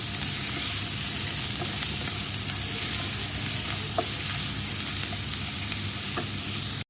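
Onion, ginger, garlic and green chilli sautéing in coconut oil, a constant close sizzle with occasional light ticks and scrapes from stirring.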